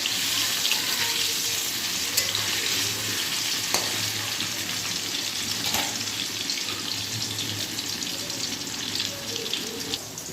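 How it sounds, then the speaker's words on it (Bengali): Paneer frying in a pan gives a steady, even sizzle and hiss that runs unbroken throughout, with no talking. "পনির ভাজা বসিয়ে দিয়েছি"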